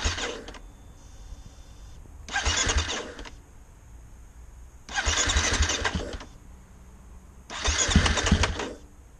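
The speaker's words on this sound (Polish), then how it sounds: "Czynnością, jaką możemy zrobić, to włączenie motoru na rozruszniku, ale nie odpalenie go, żeby parę razy pompa wzięła olej do filtra" A 2015 KTM EXC-F 250 dirt bike is cranked on its electric starter without firing, four separate whirring bursts of about a second each with brief pauses between.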